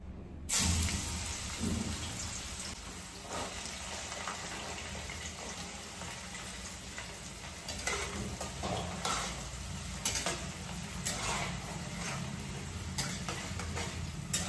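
Ingredients for fried rice sizzling and frying in a pan with ghee, a steady broadband crackle and hiss running continuously at close range with occasional louder spatters, no voices.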